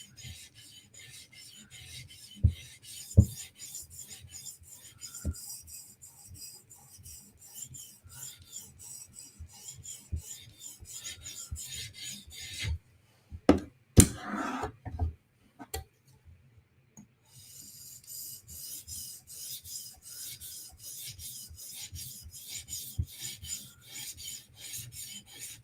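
A steel knife blade is drawn across a 400 grit sharpening stone in rhythmic rasping strokes, close and fairly quiet, with a short pause and a few louder scrapes midway before the even passes resume.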